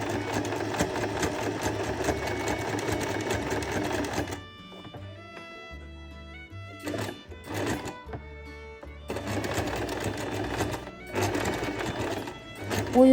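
A sewing machine runs a zigzag stitch with metallic thread around an ornament motif, making a loud, close, fast mechanical whirr in long bursts separated by short pauses and a few brief restarts.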